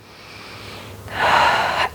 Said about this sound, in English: Nice big inhale and exhale